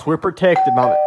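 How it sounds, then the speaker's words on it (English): A doorbell chimes, a single clear sustained tone sounding under a person's voice as they speak. "That was the doorbell."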